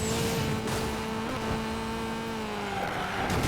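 A Honda Civic in the Need for Speed Payback racing game drones at high speed, its engine tone holding steady and then sliding down slightly, with no talk over it.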